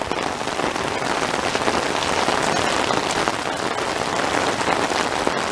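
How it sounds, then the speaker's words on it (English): Heavy monsoon rain pours down in the Phoenix, Arizona desert, a loud, dense and steady hiss of water on surfaces that continues without a break and without voices. "Clap of thunder happened and it started raining again,"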